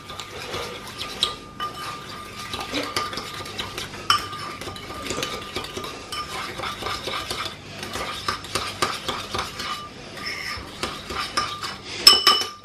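Oyster sauce mixture stirred with a utensil in a bowl or pan, a steady run of soft scraping and clinking strokes with occasional sharper taps, close and moderately loud with no voices.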